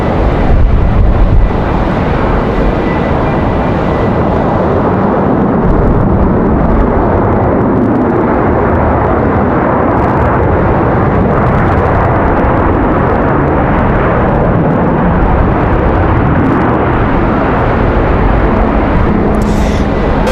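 An airliner lands in strong, gusty wind at Raleigh-Durham International, its loud continuous engine rush blending with heavy wind buffeting the microphone throughout, no voices.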